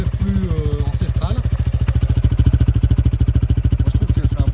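A Brixton BX125 motorcycle with a sausage-style exhaust idles close by, giving a steady, rapid low thumping pulse, with a voice speaking briefly at the start.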